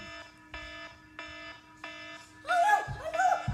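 A repeating electronic alarm sounds in steady, evenly spaced beeping bursts, then turns louder and busier toward the end as voices and laughter break in over it.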